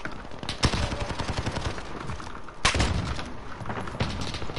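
AK rifle fire in a video game comes in dense, close bursts, with two sharp, heavy shots standing out amid the continuous rattle.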